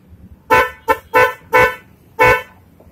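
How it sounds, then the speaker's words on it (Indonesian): Five loud, blaring honks from a battery-powered motorcycle snail horn wired with a relay, in quick succession, close by, the second one shorter than the others, with no talking. "Kita coba dulu. Klakson."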